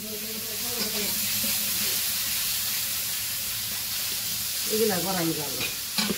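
Fish frying in a blackened, well-oiled wok in a village kitchen, giving a steady close sizzle with stirring scrapes, louder bursts near the end and no talk.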